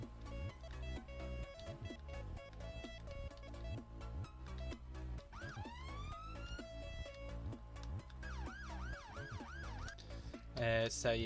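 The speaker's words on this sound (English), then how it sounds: "let's hear the sirens" Emergency sirens wail and yelp in the Roblox game NorthWales, rising and falling tones cycling over a rhythmic engine-like pulse, fairly quiet overall.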